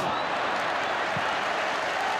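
Football stadium crowd applauding during a Manchester City versus Manchester United match, a steady, dense wash of distant clapping and crowd noise.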